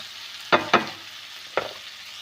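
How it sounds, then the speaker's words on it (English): Onion, tomato and masala cooking in a pan for bread upma, with two quick stirring scrapes close together, then a pause and a third scrape over a faint, steady sizzle. "we have to cook this one until the tomatoes is nicely cooked with the onion and the other masalas"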